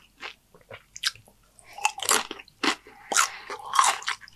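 Crunchy bites and chewing on spicy homemade nachos made in a Dorito bag, close and loud, with a string of sharp crunches and wet chomps in quick succession.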